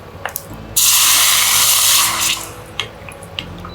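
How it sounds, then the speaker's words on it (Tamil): Water is poured into a pan of lightly roasted cumin seeds, giving a sudden loud sizzling hiss that holds for about a second and a half, then fades, with small clinks before and after. "சீரகம் லேசாக வறுபட்டு வாசனை வர ஆரம்பித்ததும் நம்ம கொஞ்சம் தண்ணீர் விட்டுக்கலாம்."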